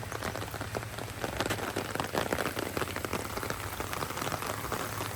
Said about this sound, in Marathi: पाऊस सारा पाऊस आला लगेच आता